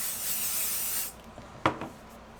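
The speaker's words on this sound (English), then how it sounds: "The first thing that you're gonna want to do is spray your tearaway stabilizer." A can of spray adhesive is used on tearaway embroidery stabilizer in one steady hiss lasting about a second, followed by a couple of faint handling taps and rustles nearby.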